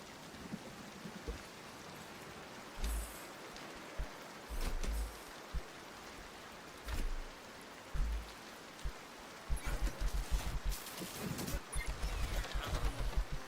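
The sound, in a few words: rain falling, from a video game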